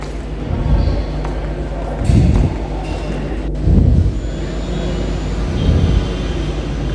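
A metro train at Uttara South station rumbles low and steady, with several louder swells of clattering noise as it rolls along.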